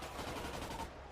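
Sustained gunfire from a crowd of locals in GTA, a dense continuous rattle of many shots overlapping, fairly faint and distant, lasting just over a second.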